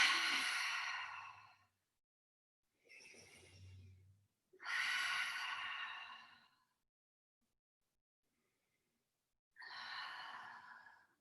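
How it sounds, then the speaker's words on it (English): Deep open-mouthed exhales and breaths during a yoga breathing exercise, four separate breathy rushes spaced by silent pauses, close and fairly soft. "Inhale through the nose, exhale,"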